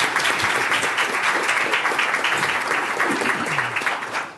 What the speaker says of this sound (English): I'll try to cue applause at the beginning of every meeting going forward.